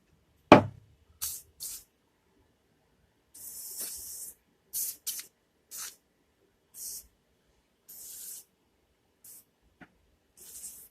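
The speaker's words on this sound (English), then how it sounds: "Maybe I might give them a quick spray just." Short bursts from a spray can aimed at parts on an old truck being worked on, a dozen or so quick hissing puffs of varying length spaced irregularly, close and quiet between, with a sharp knock at the start and no talk.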